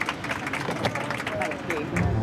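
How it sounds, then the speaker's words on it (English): Airline passengers aboard a plane applaud the aircraft engineer, a brief round of scattered clapping over a murmur of voices and cabin noise. "please feel free to give him a nice round of applause for getting up so early out of his bed this morning"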